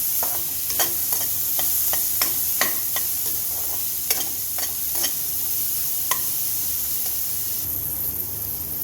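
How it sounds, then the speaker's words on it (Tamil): Finely chopped onion frying until golden brown in a pan, a constant hissing sizzle punctuated by regular sharp ticks and scrapes of a spoon stirring against the metal, close and steady. "இந்த வெங்காயம் நல்ல கோல்டன் ப்ரௌன் வர வரைக்கும் ஃப்ரை பண்ணிக்கலாம்"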